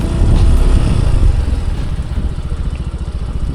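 Big bike motorcycle engine at a roadside landing point, loud and near, settling from a heavier rumble into a steady, rhythmic idle.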